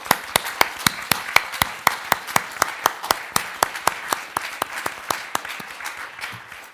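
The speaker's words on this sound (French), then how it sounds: "Je vous propose de l'applaudir" An audience at a French public-policy conference gives sustained applause, crisp evenly spaced claps ringing out above a continuous bed of hands, steady and moderately loud before tapering off.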